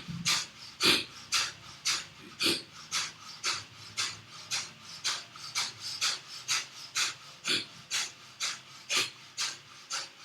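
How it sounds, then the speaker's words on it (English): Breath of fire yoga breathing: a steady train of around twenty rapid, forceful nasal exhales, evenly spaced and close, each a short sharp puff with no talking. "Let's do 50 rounds of breath of fire."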